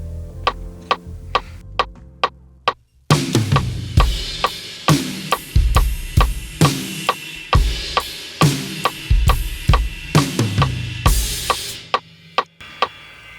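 Sharp metronome clicks tick steadily at 136 beats per minute, first alone, then joined by a worship-style drum kit playing a 4/4 beat with punchy kick, snare hits and cymbal crashes, loud and close.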